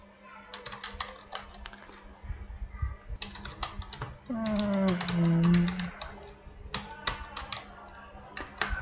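Rapid clicking keystrokes come from a computer keyboard in irregular bursts with short pauses, while a person talks in the middle of the typing.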